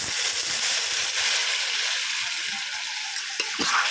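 A pan of masala paste for a flour-based paneer curry sizzles steadily as water goes in, the frying hiss thickening into a bubbling rush near the end.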